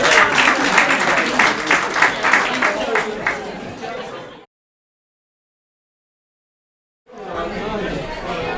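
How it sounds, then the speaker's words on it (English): Loud audience applause with some crowd chatter at a limerick competition final, dense clapping that drops out into a gap of silence before resuming. "Give yourselves a huge round of applause"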